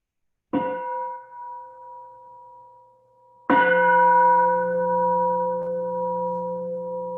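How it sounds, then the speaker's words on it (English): A meditation bell rings twice, each strike clear and resonant with a long shimmering decay, the second strike louder and sustaining to the end. "Let's have a sound of the bell."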